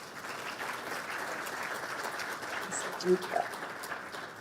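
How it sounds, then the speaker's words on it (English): Audience applause for event sponsors rings out steadily at a live solar design competition ceremony, a continuous even wash of clapping with a voice briefly speaking over it near the end. "Let's give all of our sponsors a big round of applause."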